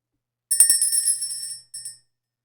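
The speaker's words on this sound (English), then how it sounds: "We're going to clear the energy by ringing the bell" A single bell is struck once to clear energy in a spiritual session. It rings out bright and clear with a high metallic tone, decays over about a second, and then a brief second softer ring follows.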